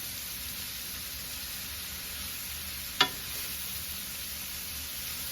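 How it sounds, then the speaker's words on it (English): Leeks and mushrooms sautéing in a pan, a steady soft hiss of frying throughout, with one sharp click near the middle, close and even, no talk. "You're going to saute this up in here until it gets a little tender."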